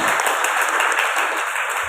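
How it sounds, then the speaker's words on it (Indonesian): An audience at a book discussion applauds the author with steady, dense clapping, loud and close, filling the whole moment without speech. "kita beri applause dulu kepada Kak Restianti"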